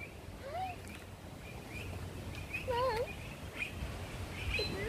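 Birds call near people on a zoo island in Australia, scattered short chirps and whistles rising over a steady outdoor background, with people talking.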